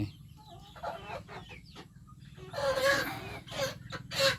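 Chickens clucking close by in short bursts, a few hens calling over one another with brief pauses and a low steady hum underneath.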